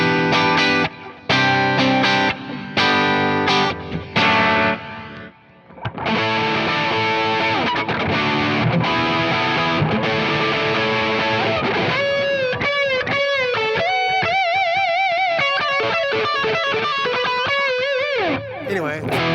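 Electric guitar run through a Keeley Halo Andy Timmons dual echo pedal in tape-echo style, distorted chords giving way to a bright melodic line with repeating echoes trailing each note, loud and close.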